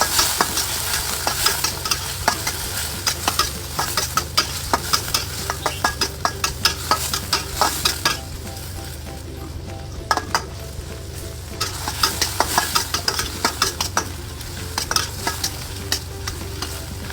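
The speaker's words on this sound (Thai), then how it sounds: "พอส่งกลิ่นหอมได้ที่แล้วใส่กุ้งลงไปได้เลย ผัดกุ้งให้สุก" Shrimp stir-fry with garlic in a hot pan for a bird's eye chili dish. A loud, continuous sizzle runs under rapid, rhythmic scraping of the spatula, with a brief pause before the stirring starts again.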